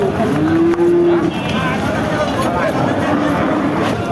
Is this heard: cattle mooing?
yes